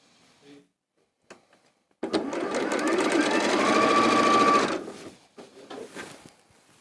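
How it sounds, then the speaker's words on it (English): A sewing machine stitches pink and cream quilt pieces together in one steady, close run of about three seconds, preceded by a few quiet handling clicks and followed by soft rustling. "I'm going to sew those together and I'm going to make 4 of these."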